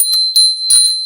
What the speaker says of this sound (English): I have this beautiful bell that I have